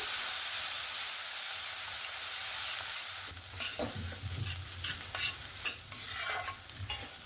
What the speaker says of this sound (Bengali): টমেটোকে আমি এরকম বেটে নিয়েছি সেটা দিয়ে দেবো দিয়ে ভালো করে কষিয়ে নেব